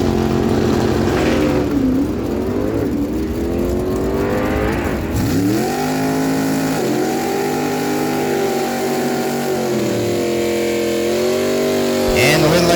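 A 2000 Chevy Camaro roars down a drag strip at a dragway event, its engine loud and sustained with rising pitch sweeps as it shifts through gears, nearby and continuous throughout.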